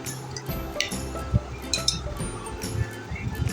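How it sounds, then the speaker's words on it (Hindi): A whisk clinking against a bowl while mixing spices with orange food colouring for a mutton leg roast, producing light irregular metallic taps close by. "इन तमाम मसालों को मैं एक दफ़ा फिर विस्क की मदद से मिक्स कर लूँगी"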